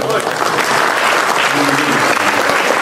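Audience clapping at a community gathering in Pasar Pagi, Samarinda, East Kalimantan: dense, loud, continuous applause from a crowd, close and even throughout.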